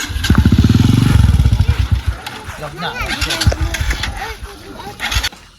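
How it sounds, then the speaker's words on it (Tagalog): A motorcycle engine revs loudly up close, then idles and putters with rattling clatter while people talk over it. "So yun yung motor na sinakyan namin."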